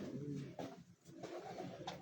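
Pigeons coo on a rooftop in Faisalabad, low, faint rolling calls repeating over about two seconds with no speech.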